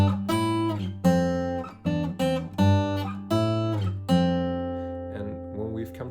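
Guitar plays the opening of the main riff from a song: a handful of plucked, ringing notes in a steady pattern, close and clear, the last note left to sustain and fade, with no voice.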